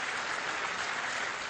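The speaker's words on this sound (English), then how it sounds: "Then a resounding ovation as a Palestinian leader entered the General Assembly chamber." Steady, unbroken applause fills the UN General Assembly chamber as a Palestinian leader enters, a resounding ovation that stays even and sustained, without voices.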